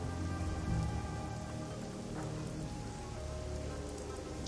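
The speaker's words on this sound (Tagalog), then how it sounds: "Umuulan." Steady rain falls in the video game Shadowrun Hong Kong Extended Edition as a dense, continuous patter on hard surfaces, loud and even throughout, with no talking over it.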